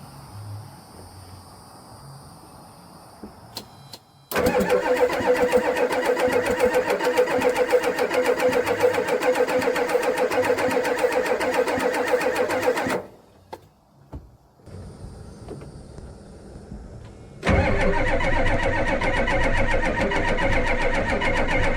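An old diesel engine abandoned for over 20 years cranks over in two long, loud bursts of steady rhythmic churning, separated by a short pause with lighter sounds, heard up close with no talking.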